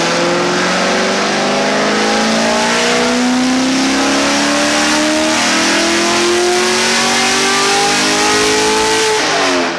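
A Chevrolet Camaro ZL1 with a manual transmission roars through a dyno pull, its engine revving loud and close in one continuous rising sweep that climbs steadily in pitch for nearly ten seconds before cutting off, with no voices.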